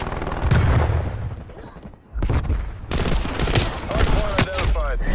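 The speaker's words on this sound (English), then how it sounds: "who's shooting at me?" Gunfire in the video game Call of Duty: Cold War, a loud run of overlapping shots and bursts that drops off briefly near the middle, then returns in dense volleys.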